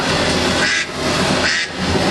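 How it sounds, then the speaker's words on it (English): Ducks quack on the water at a theme park ride, with two brief bursts of calling standing out over a steady, loud background rumble of the ride. "You should know that ducks live in this water."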